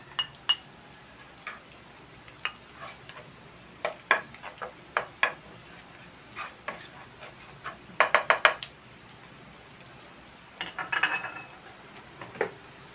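Garlic frying gently over low heat in a pan, heard as a faint steady sizzle broken by scattered clinks and scrapes of a utensil against the pan, some in quick clusters.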